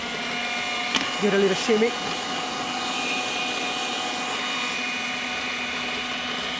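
Electric whisk beating unsalted butter for a rhubarb crumble, a steady whirring motor hum running throughout, with brief speech near the start.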